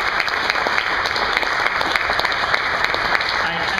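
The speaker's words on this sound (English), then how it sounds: "how about a round of applause for our candidates?" Audience at a state fair candidate debate applauds the candidates, with a dense steady clapping that stays loud throughout and a few voices mixed in.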